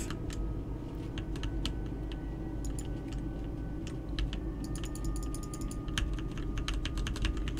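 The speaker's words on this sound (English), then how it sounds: "I'm pressing E and I'm clicking on everything ever." Rapid keyboard key presses and mouse clicks from a horror game session click irregularly and close up, over a steady low hum of the game's background sound.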